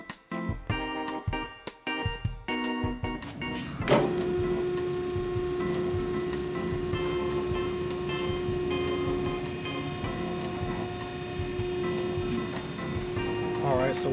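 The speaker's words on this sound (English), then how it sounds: "Alright, so we're compacting now." A trash compactor runs steadily with a loud mechanical hum and whir after its hydraulic hose is reconnected, following a few brief clanks and knocks at the start.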